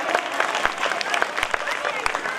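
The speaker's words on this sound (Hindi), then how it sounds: "तो एक बार जोरदार तालियां कमांडोज के लिए।" Applause for commandos at a school ceremony unveiling a statue of Bhagat Singh, dense clapping from a crowd with distinct sharp claps throughout, loud and close.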